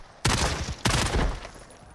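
Gunfire in the Call of Duty DMZ video game comes as two loud, sharp bursts of rapid automatic shots, each followed by a short decaying echo.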